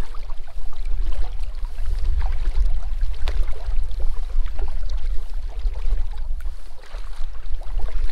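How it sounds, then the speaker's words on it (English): Kayak paddling over sand in a shallow bay, a continuous low rumble of wind and water with soft splashing strokes and faint drips, close to the boat. "I'm paddling over sand for a little bit too long"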